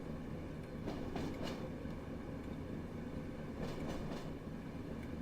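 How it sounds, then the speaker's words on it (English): A Class 101 diesel multiple unit in Train Sim World 5, arriving at Blackpool on a route from Manchester Victoria, gives a steady low rumble with faint clattering, moderately distant and fairly quiet throughout. "There's the 101. It is a 101, not a pacer. There it is. Coming into Blackpool."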